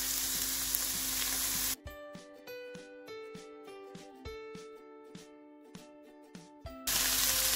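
Onions and garlic sauté in a pan, giving a steady hissing sizzle at the start and again at the end, while the middle stretch is taken over by a run of clear tonal notes that drowns out the frying.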